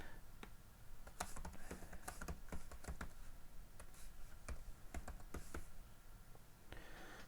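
Someone types a name on a computer keyboard in short bursts, with irregular clicks and a few louder keystrokes, close and fairly quiet against a soft background hum.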